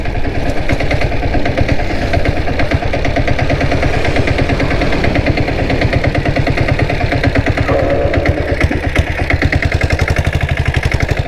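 A diesel Bullet motorcycle with a 7.5 HP turbo engine runs steadily and loudly up close, its rapid, even thumping firing pulses continuous throughout with no talk.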